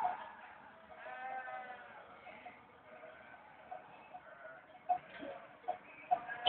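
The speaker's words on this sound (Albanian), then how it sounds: "mes Shkodrës tonë këta dele." Sheep bleat faintly on a city street in Shkodër, a few wavering calls blending into a soft, distant wash of street noise with scattered sharper knocks near the end.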